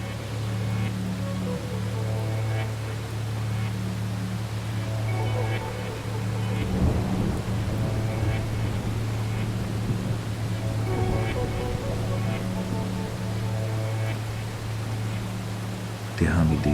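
Steady rain for sleeping hisses as an even wash throughout, with a low sustained drone beneath and a voice speaking over it in a soft, continuous way.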